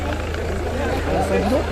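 A helicopter holds position overhead during a street protest where tear gas is being fired, giving a steady low rotor thrum beneath continuous nearby talking.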